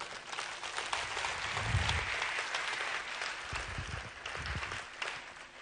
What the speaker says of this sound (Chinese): 所以今天我需要你们再一次的给这五位哈一个掌声